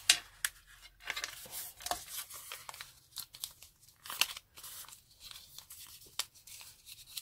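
Paper slips for a giveaway are folded up by hand at close range, a quiet series of crisp crinkles and rustling creases in irregular bursts, with no talking.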